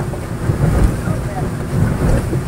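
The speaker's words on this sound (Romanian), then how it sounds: "Ei, astea-s valurile de la mare." Sea waves hitting a small boat out from Sulina on the Black Sea: heavy low thumps and sloshing under a constant roar of wind buffeting the microphone, rising and falling in loose, irregular surges.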